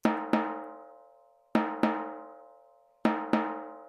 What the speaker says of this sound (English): Then we have two pieces of timpani.